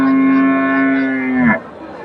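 A Friesian heifer at a cattle market gives one long, loud, close moo with a steady low tone that rises and breaks off sharply near the end, followed by quieter crowd background.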